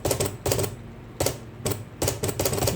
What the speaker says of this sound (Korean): 기계가 타자기가 아주 부드러워졌죠.